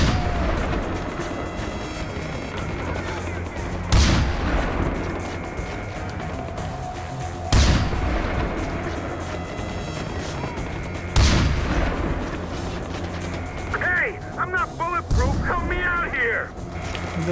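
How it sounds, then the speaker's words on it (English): Gunfire in a Far Cry 4 firefight: four heavy booming shots spaced a few seconds apart over continuous rumbling battle noise, with sharp chirping bursts near the end. "Bat, I'm taking fire!"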